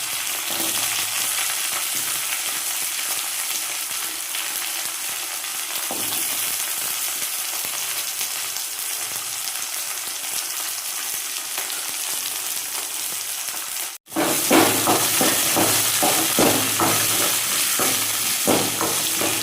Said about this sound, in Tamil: நல்லா வதக்கிக்கோங்க வெங்காயத்தை